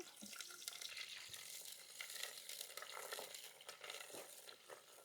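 Fenugreek seeds frying in hot oil, a dense steady crackling sizzle that runs throughout at a fairly faint level.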